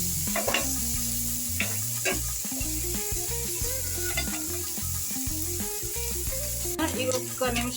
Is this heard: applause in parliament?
no